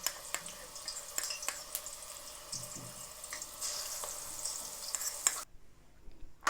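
Garlic ginger paste frying in hot oil, a steady soft sizzle with scattered crackles and pops, fairly quiet and close, with a few stirring scrapes before the sizzle suddenly drops away near the end.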